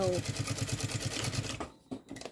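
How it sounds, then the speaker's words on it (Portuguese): A sewing machine stitches a close seam on a school pencil case, running in a quick, even mechanical rhythm for about a second and a half before stopping, followed by a couple of soft handling clicks. "eu passo a costura bem rente aqui"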